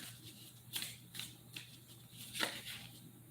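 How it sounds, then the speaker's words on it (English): Tarot cards are shuffled by hand in several quick, soft riffles and slaps spaced about half a second apart, close and quiet against a faint low hum, with no talk. "3 more shuffles."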